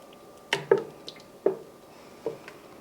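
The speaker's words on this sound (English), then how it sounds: "So I will stir this up, get it heated through, then add the cheese." Roasted red pepper soup being stirred in a pot, giving a few soft wet squishes and drips at uneven intervals, fairly close and quiet with no talking.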